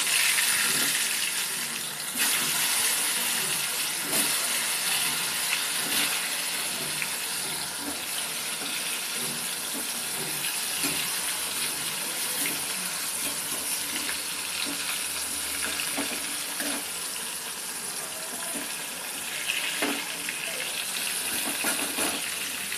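Pointed gourd pieces fry in hot white oil in a wok, giving a steady, loud, even sizzle with scattered crackles and pops that carries on throughout without any talking.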